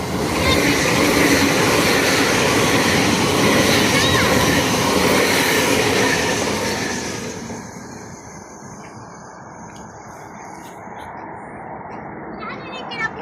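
A train rumbles past at Sunny Bay station in Hong Kong, loud and close, its roar fading halfway through and leaving a quieter outdoor scene with birds chirping; there is no clear talk.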